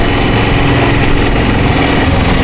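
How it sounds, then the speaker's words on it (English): A sailboat's motor runs steadily, a loud close buzzing engine drone with a constant pitch and no breaks, heard alone without voices. "We just decided that we're just going to turn on the motor"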